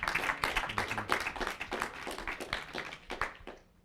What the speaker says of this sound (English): Please give us another round of applause for Chris Smalls.